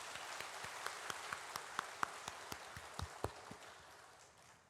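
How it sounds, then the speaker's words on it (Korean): Church congregation clapping during a Sunday morning worship service, a scattered, moderately faint round of individual claps with some sharper near hits, tapering off toward the end. "박수 한번 하도록 하겠습니다"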